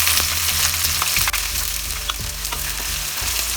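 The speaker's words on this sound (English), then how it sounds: "Fry the onion till golden brown" Chopped onion sizzles steadily in hot vegetable oil with bay leaves, whole garam masala and cumin seeds for chicken pulao, a loud continuous frying hiss broken by a few clinks of stirring.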